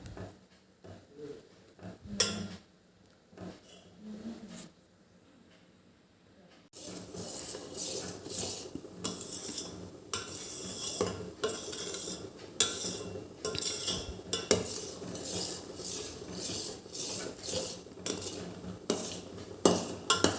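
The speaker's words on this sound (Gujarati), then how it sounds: "ગેસની ફ્લેમ એકદમ ક્લોઝ રાખવાની અને વચ્ચે વચ્ચે આવી રીતે હલાયા કરવાનું" A spoon stirs cream in a pot over a low gas flame to make homemade ghee. After a quiet start, close, repeated metallic scraping and clinking against the pot run steadily to the end.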